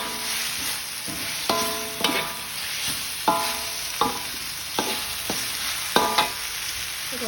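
Chili being stir-fried in a pan with washed kaffir lime leaves: a steady sizzle underneath while a utensil scrapes and stirs in regular strokes about every second.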